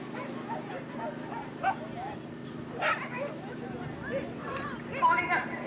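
Dogs bark and yip at a dog show, a few scattered sharp barks and whimpers at moderate distance, mixed with crowd murmur and talking.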